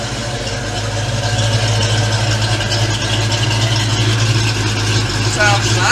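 A car engine idles steadily at a low, even rumble, close by and unchanging.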